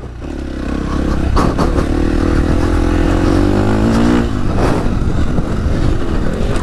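A dirt bike engine drones steadily up close while it is ridden off-road, with small rises in revs and some clattering over uneven ground.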